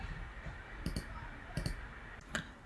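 Computer mouse clicks at a desk while navigating a web interface: a few sharp, close clicks, some in quick pairs, spaced across a quiet room background.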